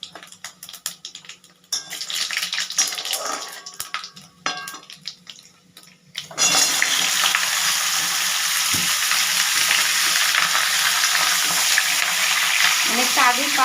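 Mango pieces hit hot oil tempered with five-spice, bursting into a loud, steady sizzle after a stretch of quieter spattering and stirring, with light pan clatter near the end.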